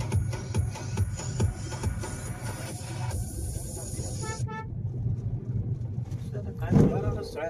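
A car on the road with engine rumble and several short horn toots, while people talk inside over the driving noise.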